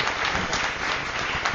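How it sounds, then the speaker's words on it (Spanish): An audience applauds panel participants at an academic session on local development and employment, a dense, steady patter of clapping filling the short stretch without any voices. "Les pueden aplaudir, ¿eh?"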